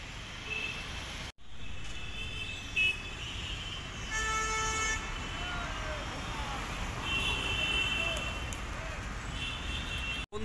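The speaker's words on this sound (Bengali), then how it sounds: "এই মিনি বাস স্ট্যান্ডের পাশ দিয়ে চলে গেছে হচ্ছে ভিআইপি রোড, ও এই ভিআইপি রোড ধরেই এই তেঘরিয়া থেকে হাওড়া ময়দান যাবার মিনি বাসগুলো যাতায়াত করে" Traffic runs along VIP Road beside the Teghoria mini bus stand with a constant low rumble. A few vehicle horns sound partway through, and faint talk is mixed in.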